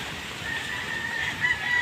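Chickens clucking steadily in a group, a continuous mid-pitched chatter of hens at moderate volume with no talking.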